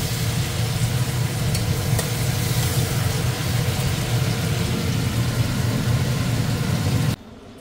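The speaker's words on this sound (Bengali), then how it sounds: "শিম ভাজছি আলু জিরে দিয়ে" Broad beans fry with potato and cumin in a pan, a dense, steady close sizzle running without pause until it cuts off abruptly near the end.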